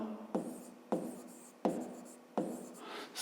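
A pen writes on paper in four quick strokes, each a short scratchy scrape starting with a sharp touch, close and quiet with faint pauses between.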